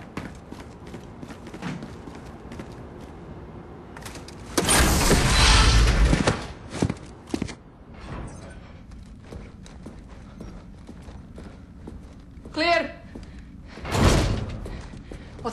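Heavy door in a Call of Duty Modern Warfare mission scene bangs with a loud burst of impact and rumble, followed by scattered thuds, clanks and a later sharp hit amid game ambience.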